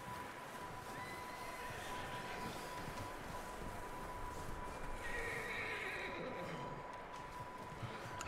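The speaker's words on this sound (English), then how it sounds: "Oh, I hear a horse." Horse neighing in the open-world game Red Dead Redemption 2, a faint whinny amid low ambient game sound, with hooves clip-clopping.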